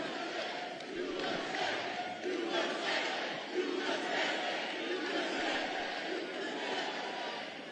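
A large, loud crowd at a Trump campaign rally roars and shouts steadily throughout, with a dense wall of voices rising and falling but never dropping out.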